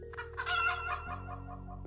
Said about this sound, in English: Edwin figured he'd better go outside and get his pet chicken, TukTuk.